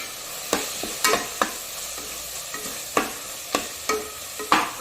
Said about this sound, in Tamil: போட்டு எல்லாத்தையும் நல்லா வதக்கி விட்டுருவோம்.